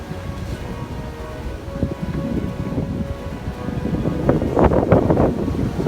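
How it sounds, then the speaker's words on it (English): Strong, gusty wind on a cold morning outdoors, buffeting the microphone in a steady roar that swells louder toward the end, with no talk. "It is cold and windy this morning."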